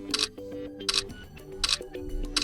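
Camera shutter sounds from a Realme GT Master Edition smartphone, several short crisp clicks repeating at roughly regular intervals over a faint musical background, close and clear.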